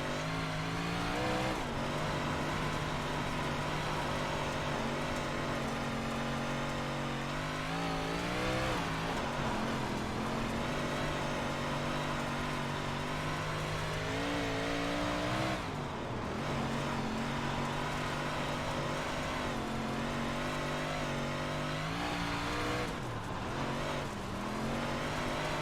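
Race cars rev and roar around an oval track in a racing video game, engine pitch rising and falling steadily throughout with loud continuous drone and occasional shifts, no voices.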